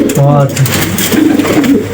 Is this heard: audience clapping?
no